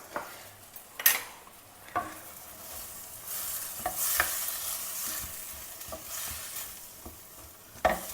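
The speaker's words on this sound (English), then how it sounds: "Now all the vegetables can go in one by one. Carrot, capsicum, and also the frozen green peas." Carrot, capsicum and frozen green peas stir-fried in a pan, with steady sizzling and repeated scraping and clinking of a spatula against the pan, close and fairly loud.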